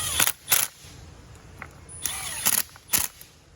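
A small power driver whirs in short bursts tightening 8mm bolts on a replacement cooling fan motor, about five brief buzzing pulses with faint clicks and a quiet background hum between them.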